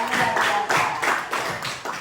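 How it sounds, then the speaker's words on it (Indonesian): Audience hands clap in a few rhythmic bursts during a classroom teaching session, fairly close and moderately loud, with no speech over them. "Tepuk tangan, baik-baik kita semua."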